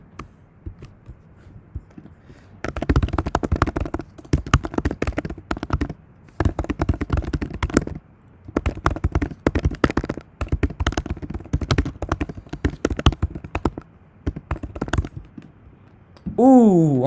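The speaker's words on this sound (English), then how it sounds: "Let's see my typing." Rapid typing on a computer keyboard, dense bursts of close clicking keystrokes broken by brief pauses, ending with a short rising tone.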